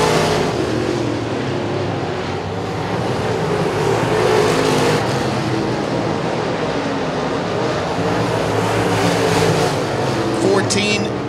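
Modified race cars lapping an oval during a Budweiser Modified feature, a continuous engine roar from a pack of cars under an announcer's fast commentary.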